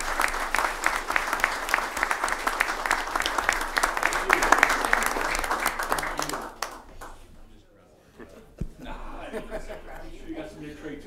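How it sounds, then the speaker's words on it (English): A room at a Hamilton city council meeting applauds a couple with brisk, dense clapping for about six seconds before it dies away into quieter room sound and talk. "a round of applause for this fine couple here"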